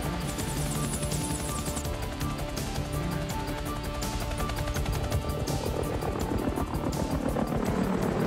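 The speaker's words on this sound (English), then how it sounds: "Rolling. Action, chopper." During a film shoot, a helicopter flies nearby with a loud, steady rotor chop and engine roar that fills the entire stretch with no voices.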